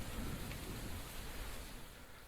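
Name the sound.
rain falling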